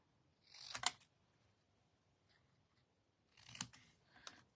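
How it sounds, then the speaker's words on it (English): Scissors snip off ends at an angle while papercrafting: two crisp, close cuts a few seconds apart, the second followed by a smaller snip, with near silence between. "I'm going to just cut these off at an angle."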